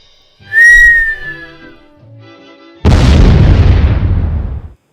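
A falling bomb gives a loud descending whistle that trails off, then after a short pause a heavy, booming explosion rumbles close and fades over about two seconds.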